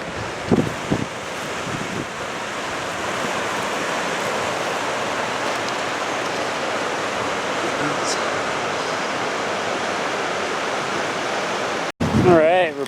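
The Muddy Fork river rushes in a steady, loud roar of water along Mt. Hood's snowy Timberline Trail, with wind buffeting the microphone, a few brief knocks at the start, and a sudden cut near the end.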